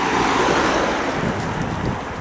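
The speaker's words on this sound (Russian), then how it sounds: "Сегодня как-то прям ветер такой прохладный, знаете?" A cool wind blows steadily outdoors in Spain, loud and constant with rumbling gusts buffeting the microphone.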